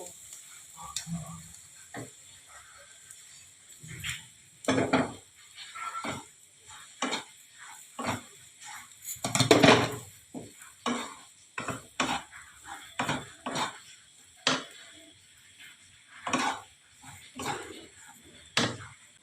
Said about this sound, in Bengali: এখন আমি এই সুজিগুলোকে দিয়ে দেব